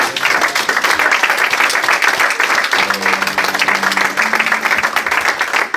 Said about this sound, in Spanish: Denle un aplauso al Señor en esta tarde.